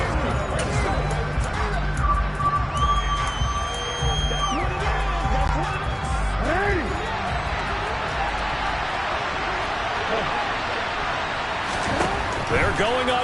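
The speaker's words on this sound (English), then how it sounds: "How about some applause for the defense there?" Large stadium crowd at an NFL game roars with sustained cheering and applause for the defense after a stop, loud and continuous throughout, with whoops rising above the din and commentators' voices mixed in.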